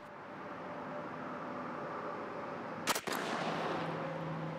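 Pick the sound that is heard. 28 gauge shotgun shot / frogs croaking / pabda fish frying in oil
28 gauge shotgun shot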